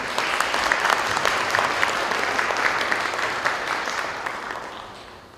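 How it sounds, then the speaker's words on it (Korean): A crowd applauds steadily, dense clapping holding strong before slowly fading toward the end. "우리 큰 박수로 오늘 맞아주겠습니다."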